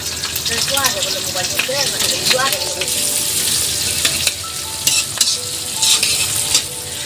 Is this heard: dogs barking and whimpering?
no